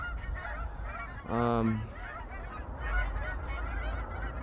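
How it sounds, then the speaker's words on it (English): At Crimmer's Field, birds outdoors let out a loud nasal honk, goose-like, against a rough background of wind and distant chatter, with a man briefly murmuring. "Enjoying the birds."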